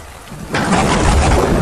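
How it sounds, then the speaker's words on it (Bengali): Thunder rumbles in and rain pours at night, a loud thunderstorm that swells from a quiet start into a steady downpour with no talking. "বলতে না বলতে বৃষ্টি নামলো।"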